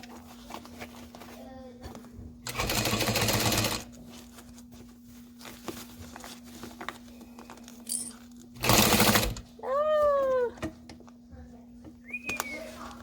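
A sewing machine back stitches a backpack in short, close bursts, a couple of brief whirring runs separated by pauses, with some quiet talk and handling noise between them.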